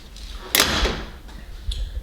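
A single solid door slam of a 2022 Polaris General utility vehicle, close and fairly loud, followed by a faint softer click a moment later.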